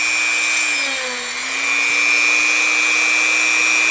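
A power drill with a dull bit runs through a parachute sled, giving a steady, loud, high motor whine that dips briefly in pitch and then holds on its own.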